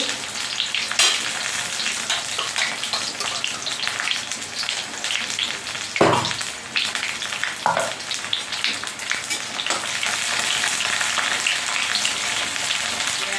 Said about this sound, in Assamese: অলপ ভাজি ল'ম, অলপমান ভাজি ল'ম এইখিনি।